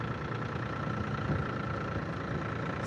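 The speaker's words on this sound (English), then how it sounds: "It is a diesel tractor." A diesel tractor idles at an outdoor auction, its steady low rumble continuing evenly for a few seconds with no talk over it.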